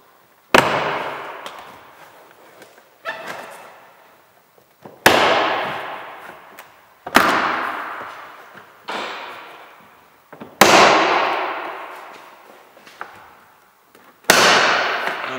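Plastic door panel clips on a BMW X5 E70 snap loose as the panel is pulled by hand: about six loud, sharp cracks spaced a few seconds apart, each ringing briefly before fading, with no talking.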